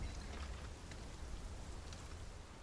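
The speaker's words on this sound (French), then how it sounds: "La pluie." Steady rain falls in the video game Final Fantasy VII Rebirth, a dense, even hiss of drops on surfaces without pause, fairly faint and with no voices over it.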